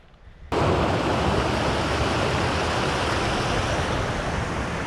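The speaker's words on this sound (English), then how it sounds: "More beautiful streams" Mountain stream in Grand Teton National Park rushing loudly and continuously, a dense close wash of flowing water that starts abruptly and holds steady with no voices.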